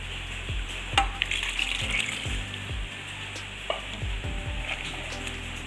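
A spoon stirs a coconut milk mixture in a pan for a Karkidakam special recipe, giving soft scraping strokes and knocks against the pan over a steady low sizzle, close by and with no talk.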